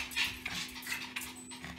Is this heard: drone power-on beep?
no